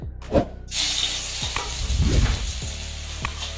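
Ginger garlic paste hits hot oil for momo chutney and bursts into a loud, close hissing sizzle, then settles into steady frying with a few stirring knocks, no voices.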